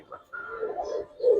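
Giribaz pigeons coo in soft, low, throaty bursts, close by, one short call followed by a longer rolling coo and a louder final one, with no talking.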